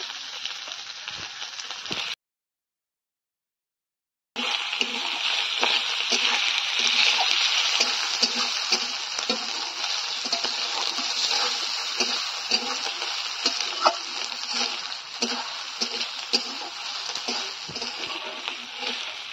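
Chopped coconut fries in oil in a pan, a close, steady sizzle with stirring scrapes; it breaks briefly to silence early on, then resumes loud and continuous.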